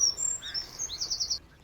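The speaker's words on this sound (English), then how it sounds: "There's a cuckoo." Outdoors at Elmley Nature Reserve, a bird calls in a quick series of high, clear notes, close and distinct over a soft open-air hush, ending in a brief rapid flourish.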